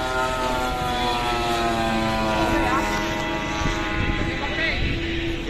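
A radio-controlled model airplane's high buzzing propeller whines steadily overhead at an outdoor aeromodeling show rehearsal, its pitch rising and falling through loops and rolls, with wind noise throughout.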